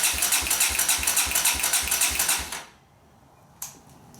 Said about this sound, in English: I'm going to give it a couple of cranks